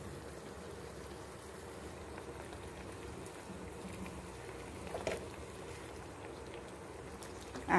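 Egg tomato curry with milk and water boiling in a pan gives a faint, soft, continuous bubbling and simmering, close and quiet, with a brief small clatter near the end and no speech.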